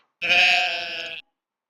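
A single clear sheep bleat sounds in the farming video game Stardew Valley, loud and close, lasting about a second against silence.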